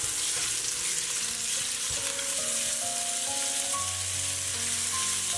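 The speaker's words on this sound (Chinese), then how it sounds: "把切好的肉放入里面，" Chopped meat stir-fries in a little cooking oil in a wok, a dense continuous sizzle running the whole time with faint steady tones from the stove area underneath.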